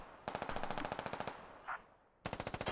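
Rapid bursts of automatic gunfire in the tactical shooter Squad, loud and close, rattling in a long stream, pausing briefly around a short muffled pop, then resuming in sharp rhythmic shots.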